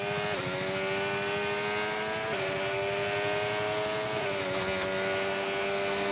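Race car running test laps at the Shanghai circuit, heard from onboard: a steady, loud engine drone that shifts pitch a few times as the car moves through gears and speed changes.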